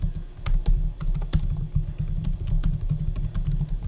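Steady typing on a computer keyboard while entering an email subject line, quick irregular key clicks close by and continuous, with no talk.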